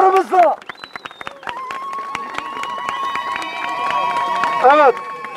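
Striking healthcare workers at a protest rally answer with ululation, scattered claps and whistling, sharp warbling cries at the start and end over a sustained whistle and crowd clapping, near and loud.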